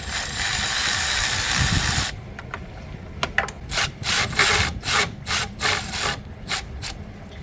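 A wobble extension with a 6mm socket works a bolt loose on a BMW M5 E60 engine. A loud whooshing blast comes first, then a string of short, close mechanical clicks and scrapes in uneven bursts.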